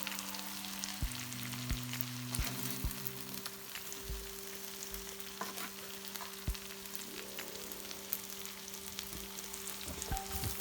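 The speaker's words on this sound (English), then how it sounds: "look at that delicious veggie stir fry" A veggie stir fry sizzles in a pan in a boat's galley, a steady close frying hiss with a few faint clinks and a low background hum.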